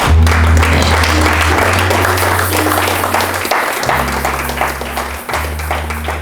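A church congregation applauds together, dense sustained clapping that fills the room, with low organ or keyboard tones droning underneath and briefly dropping out before resuming.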